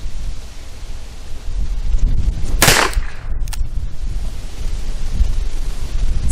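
A single sharp gunshot from a Ruger Alaskan revolver with a 2-inch barrel firing Federal HST .45 ACP rounds cracks out over steady outdoor wind noise, loud and brief, with no talking.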